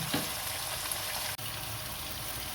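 Mutton head pieces and tongue fry over a high flame, giving a steady, dense sizzle that runs unbroken for a few seconds apart from one brief dip in the middle.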